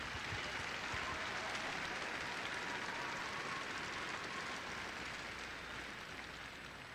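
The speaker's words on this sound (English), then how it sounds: "let's have a round of applause for that." Sustained, dense applause from a large audience at a robotics competition's opening ceremony, a steady broadband wash holding for the full seven seconds and easing only slightly toward the end.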